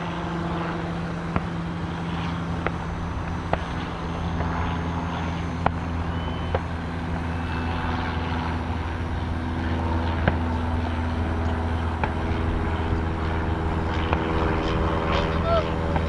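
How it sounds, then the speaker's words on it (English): A real airplane on approach drones overhead as a continuous engine rumble, steady and moderately loud, with wind noise and occasional clicks; someone talks over it. "Real plane coming on approach."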